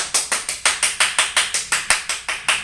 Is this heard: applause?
yes